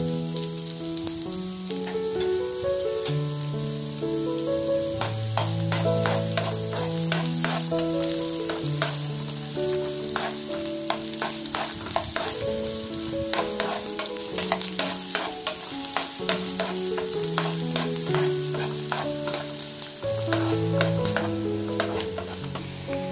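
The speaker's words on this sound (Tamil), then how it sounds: "இப்போ வெங்காயம் நல்லா வதங்கிருச்சு" Chopped medium onion sizzling steadily in hot oil in a pan, a dense close crackle with frequent clicks of stirring throughout, no voices.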